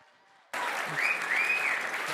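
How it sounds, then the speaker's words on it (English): After a brief quiet moment, loud applause bursts in from a crowd, with a few whistles rising above the clapping. "give a round of applause for Guerrilla Games"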